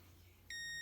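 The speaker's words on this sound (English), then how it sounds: "Beep, so it's probably in the on position already." A Kobalt digital multimeter gives a single sustained electronic beep, clear and close, starting suddenly after a moment of quiet room tone once batteries are fitted.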